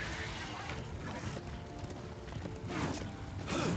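Horse hooves clip-clop in the video game Darksiders 2, a steady, muffled patter of hoofbeats under dense game ambience that grows slightly louder near the end.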